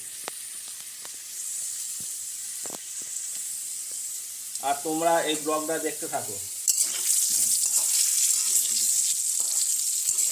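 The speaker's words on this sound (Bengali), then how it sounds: "এই যে চিকেন করার জন্য আলুগুলো ভাজছি" Potatoes sizzling in hot oil in a pan, fried for a chicken curry, with a steady close crackle and occasional stirring clinks; a voice speaks briefly in the middle.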